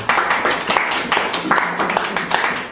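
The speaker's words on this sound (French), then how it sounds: "Pardon, applaudissez pour ces personnes." A gathered audience at a community association meeting applauds in uneven bursts of clapping, fairly close, with some voices mixed into the brief spell of hands.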